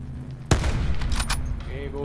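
Gunfire in a video game shooter: one loud burst hits sharply, then rattling shots and scattered reports follow close together, with a voice briefly mixed in.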